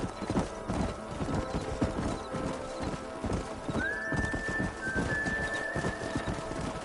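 Horse hooves clip-clop in steady rhythm in the video game Red Dead Redemption on PS5, with a whinny rising partway through over continuous trotting.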